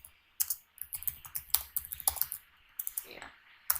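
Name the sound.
typing on a computer keyboard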